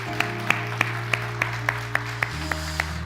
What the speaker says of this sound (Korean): 하나님께 감사와 영광의 박수 같이 올려드리겠습니다